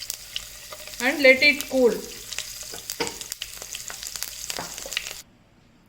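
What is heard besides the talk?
mustard seeds splattering in hot oil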